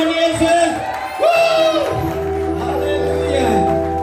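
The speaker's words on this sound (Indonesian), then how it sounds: "Sorak-sorainya dong buat Tuhan Yesus." A church congregation at an online Indonesian worship service cheers and shouts for Jesus, a loud mix of crowd whoops and yells over a sustained musical backdrop, with a voice speaking through it.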